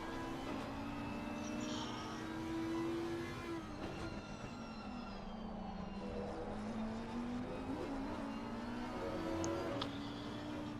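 An Audi GT3 race car engine drones continuously with rising and falling pitch as it shifts gears at the Hungaroring circuit, heard from a distance with a broad rumbling backdrop.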